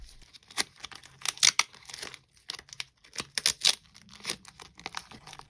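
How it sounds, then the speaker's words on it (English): Sticky plastic backing is pulled off a UV resin sun catcher in crackling, tearing bursts, close and fairly loud, coming in irregular clusters over a few seconds. "you can see that I am just pulling the plastic off"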